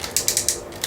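A ratchet joint on a Deformation Space DS-01S Sky Masterpiece Skywarp transforming robot figure clicks as the limb is moved, a quick series of about six sharp, close plastic clicks in under a second.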